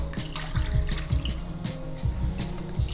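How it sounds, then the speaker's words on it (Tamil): Water poured cup by cup into a pot for millet pongal, several splashing pours in a quick rhythm, close and clear. "அந்த கப்லேயே வந்து ஒரு 4 கப்பு தண்ணி விட்டுக்கலாம்"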